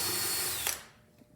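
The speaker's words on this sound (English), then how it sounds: "So I'm finished drilling my pilot hole." Power drill boring a pilot hole during table assembly, a steady close whine for most of a second before the motor cuts off and spins down, followed by a faint knock.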